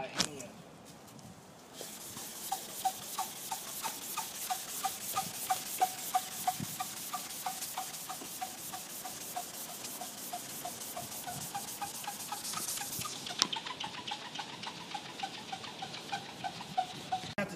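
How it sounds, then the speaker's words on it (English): An old finish layer being sanded off by hand, with a long series of quick, rhythmic rubbing strokes close by and faint voices in the background. "Have to sand off that old layer."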